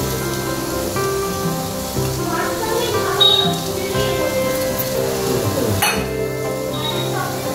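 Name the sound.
pouring milk, kewra water and rose water over biryani rice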